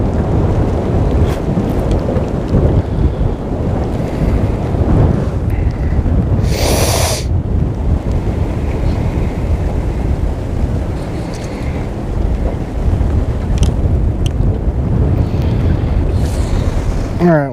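Steady wind noise rushes over open water beside a river where someone is bobber fishing, a continuous loud buffeting wash with a brief gusty burst midway and no speech.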